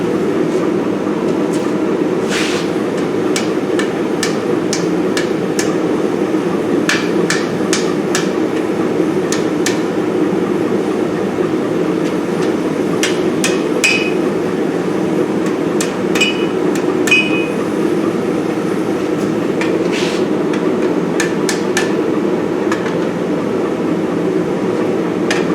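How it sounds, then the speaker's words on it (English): Heated iron hammered on an anvil at a blacksmith's forge, with sharp metallic strikes in irregular bursts and clusters over a steady low background hum, close and clear throughout. "I'm going to heat this part, and I'm just going to hammer it down"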